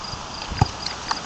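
A horse's hooves clip-clop in a few uneven steps, one sharp close strike standing out among lighter footfalls, with no talking.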